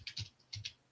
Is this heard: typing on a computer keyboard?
yes